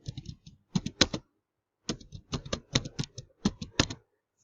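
Keystrokes on a computer keyboard while entering a school name into an Excel spreadsheet, in quick bursts of clicking taps separated by a short pause, close and clear with no talking.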